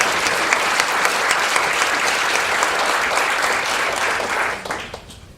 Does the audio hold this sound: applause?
yes